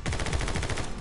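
Rapid automatic gunfire from the game My Friend Pedro, a dense, continuous burst of shots with a steady pulsing rhythm, loud and close with no talking.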